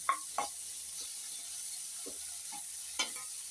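Ridge gourd and carrot sizzle steadily in a hot pan for chutney, with a spoon scraping and stirring now and then, close up and with no voices.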